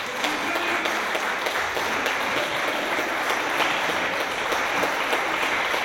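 Sustained audience applause at a ceremony honouring an artist, opened by a mayor's speech: a dense wash of clapping that stays steady throughout without any speech.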